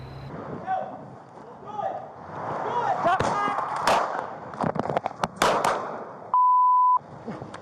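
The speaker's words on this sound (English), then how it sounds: "That's 5 shots fired." Several sharp gunshot bangs ring out, fired by a Naugatuck police sergeant during a body-camera-recorded police shooting. They come in an uneven cluster over a loud, busy background, followed by a steady electronic beep.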